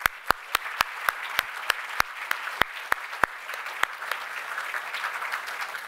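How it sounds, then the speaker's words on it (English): Audience at an awards ceremony applauding, a broad wash of clapping from a large crowd with a few sharp nearby claps standing out, steady and then gradually thinning toward the end. "Please join me in another round of applause for the Virginia Military Institute"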